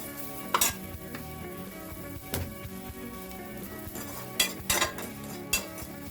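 Turmeric fries in a little oil in a pan, giving a soft sizzle under several sharp scrapes and clinks of a utensil stirring against the pot, with no talk.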